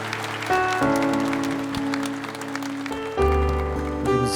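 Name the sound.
church congregation applauding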